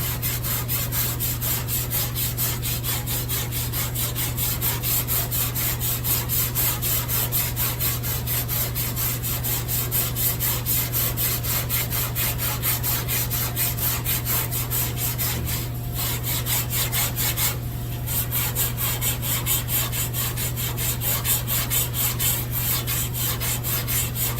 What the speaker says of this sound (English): Putty actually sands pretty good when it's dried up good.